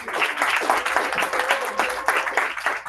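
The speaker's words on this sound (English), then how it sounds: "A round of applause for Kelvin Okari." Audience applause at a Toastmasters club meeting, a room of people clapping in quick uneven bursts for about three seconds, close and fairly loud.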